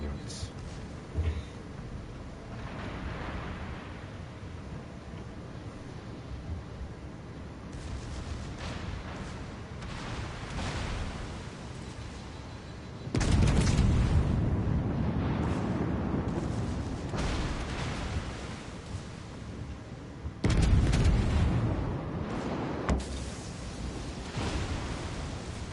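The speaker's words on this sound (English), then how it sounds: "Ooh, he's getting hit by torpedoes." Torpedoes slamming into a Japanese battleship, the Kongo, in a naval video game: two heavy booming explosions with long rumbling tails stand out over low battle noise, while someone talks throughout.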